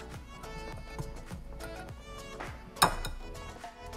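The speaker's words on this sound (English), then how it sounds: "you want to whisk this together until well combined" Flour, baking soda, baking powder and instant coffee being whisked together in a bowl, a soft rapid rhythmic ticking of the whisk against the bowl with one sharper clink partway through.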